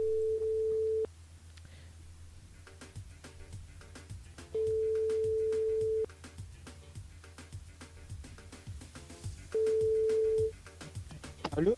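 Phone line tones repeat three times in steady beeping stretches as a caller is put through on a live radio show, with background hum and sounds between tones.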